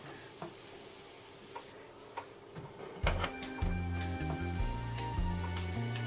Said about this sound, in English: So, stir it round again.